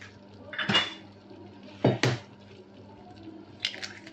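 Metal utensil clinking and scraping against a cooking pot while stirring Moroccan harira soup, three short bursts of clatter spaced apart over a low steady hum, close and fairly quiet.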